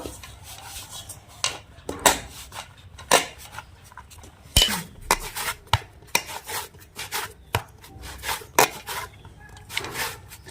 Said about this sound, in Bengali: হালকা গরম অবস্থায় খামিরটা মেখে নেব।